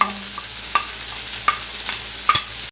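Sour green mango and onion fry in a pan with a soft, constant sizzle, while a spoon or spatula stirs and clinks against the pan about four times at an even pace.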